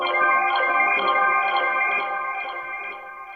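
Synth arpeggio bloop texture run through a compressor, stock delay and gentle panning, giving a continuous shimmering bed of repeating tones with a soft, steady rhythm and slight movement throughout.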